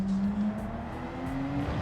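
A race car in the Gran Turismo 7 video game holds a steady, droning engine note as it engine-brakes, with a faint whine of tires in the background and no talk.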